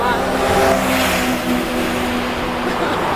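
A car engine hums with steady harmonic tones that rise and fall as it rolls by, continuous and fairly loud, with no talk over it.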